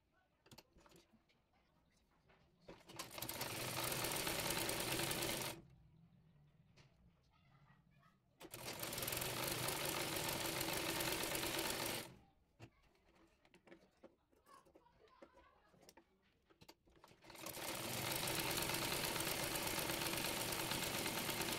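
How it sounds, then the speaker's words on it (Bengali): A sewing machine stitches the fabric of a blouse's button placket, running in three loud, steady bursts separated by quieter pauses with faint handling sounds. "একইভাবে অপর পাশের বোতাম পট্টির কাপড়টিও সেলাই করে নিচ্ছি।"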